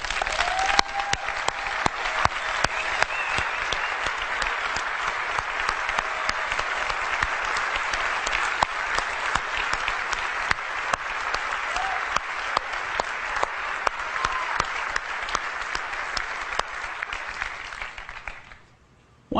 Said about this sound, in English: I'd like all the folks that worked on these products to stand up so we can give them a round of applause.